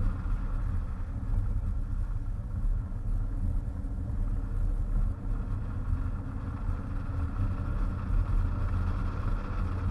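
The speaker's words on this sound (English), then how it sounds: "So let's try increasing the speed a little bit." A 2005 Jeep Grand Cherokee drives at speed through corners, its engine drone and road rumble a steady, loud, low roar heard from inside the cabin with no one speaking.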